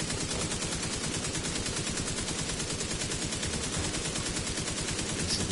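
Rapid, sustained automatic gunfire from The Division 2 video game, a dense continuous burst of shots rattling at an even rhythm throughout, loud and close, with no talk over it.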